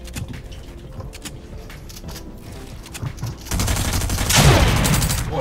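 Gunfire from a shooter video game, with a dense burst of shots that grows louder and heavier partway through over steady background game noise.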